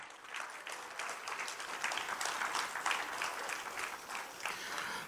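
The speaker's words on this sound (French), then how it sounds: "Applaudissez pour le Seigneur" Church congregation applauding the Lord during a worship service, many hands clapping in a steady, moderately loud burst that continues evenly throughout, with no voices standing out.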